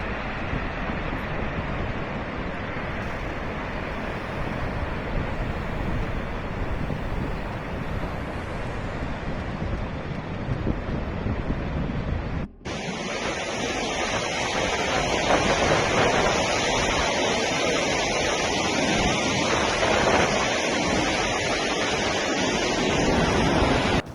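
A flooded river in the Harshil area of Uttarkashi, Uttarakhand, roaring as one steady, loud broadband rush of water. It continues unbroken for the whole stretch, with a brief cut midway after which it sounds somewhat brighter.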